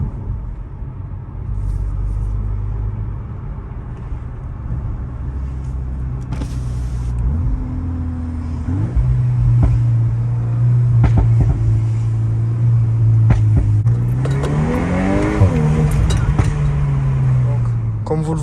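An ABT-tuned Volkswagen Golf 8R, a 384 hp hatchback, cruises gently in eco mode with a steady low engine and road rumble heard from inside the cabin, gear changes shifting the hum, and someone talking throughout.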